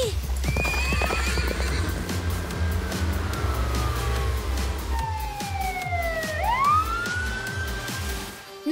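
Cartoon horse clip-clopping in a steady rhythm while it neighs and whinnies, with a siren wail sweeping up and down in the background; loud and close throughout.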